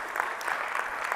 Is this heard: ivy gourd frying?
no